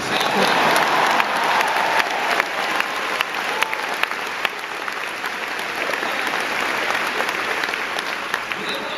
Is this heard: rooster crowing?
no